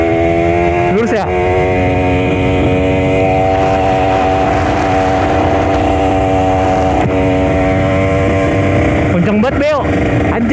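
Three motorcycles roar loudly and continuously while speeding on a road, with bikes whining past close by near the start and again near the end.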